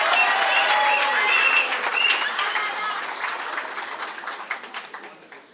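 Graduation-ceremony applause in Gauteng for a student passing with distinctions, a full crowd clapping with a few high cheers early on, fading into sparse individual claps near the end.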